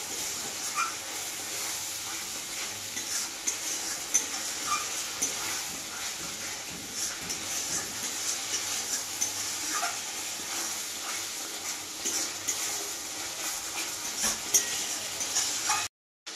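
A soft, steady sizzle of chana masala paste frying in a pan, with faint scraping and occasional light taps, continuous for a long stretch.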